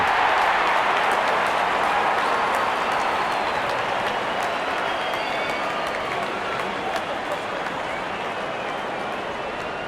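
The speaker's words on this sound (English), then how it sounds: "Openers walking in and the crowd cheering in anticipation" Stadium crowd at a T20 World Cup cricket match between Australia and Pakistan, cheering as the openers walk out. It is a steady, dense roar of many voices that holds loud and unbroken throughout.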